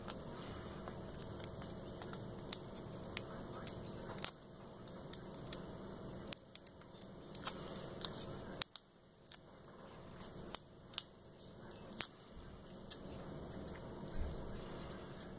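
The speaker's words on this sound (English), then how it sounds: "now I'm just going to take all of the backing of the foam tape off" Backing is peeled off foam tape by hand, making quiet, sporadic crinkles and sharp little ticks and snaps against near silence.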